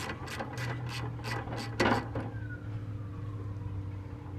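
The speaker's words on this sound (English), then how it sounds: "remove this plug screw on top, like this, which is a 9/16. We're going to take that out." A ratchet wrench clicks in a quick run of about seven metallic ticks while loosening the 9/16 gearbox plug screw on top of a snow blower, with a sharper clank near the end, then quiet hum.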